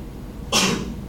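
A single sudden sneeze bursts out close by in a quiet room, a short sharp breathy blast lasting about half a second over a low background hum.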